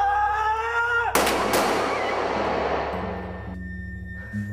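A single sharp gunshot in a dramatic acting scene, a loud broadband crack with a second report close after, then a long reverberant decay over a low steady hum, with no talking.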